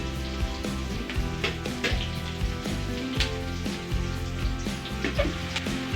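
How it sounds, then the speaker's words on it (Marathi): Cumin seeds and onion crackling in hot oil for a tempering, a dense sizzle with scattered pops and stirring taps, close and steady, no talk. "जिऱ्याची फोडणी दिली."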